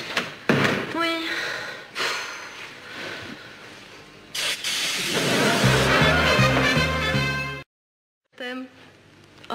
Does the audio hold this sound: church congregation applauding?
no